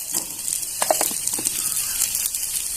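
Okra coated in gram flour sautés in oil, crackling and sizzling close by with light stirring scrapes and small pops throughout.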